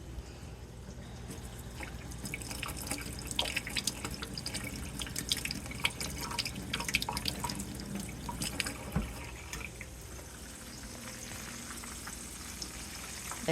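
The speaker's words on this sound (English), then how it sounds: "Hold on, I need to rinse my hand." A hand rinsed under a running kitchen tap, with a steady rush of water and splashing that continues throughout, along with small clinks and spatter nearby.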